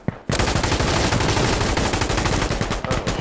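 Automatic gunfire in the tactical shooter Insurgency: Sandstorm erupts after a brief pause, a loud, close, rapid stream of shots that runs almost unbroken for about three seconds.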